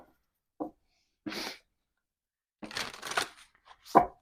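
Short bursts of tarot cards being shuffled, a couple of quick riffles and a longer rapid flutter with brief pauses between, close and crisp.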